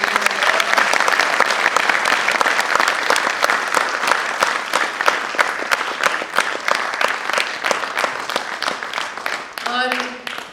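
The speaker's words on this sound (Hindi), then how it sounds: "हमारी एक बार और जोरदार तालियां।" Loud, sustained applause from a theatre audience at the close of a patriotic stage play about the 1962 war, dense clapping throughout; near the end a voice starts speaking over the clapping.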